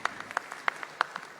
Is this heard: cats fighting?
no